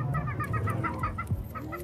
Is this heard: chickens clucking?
yes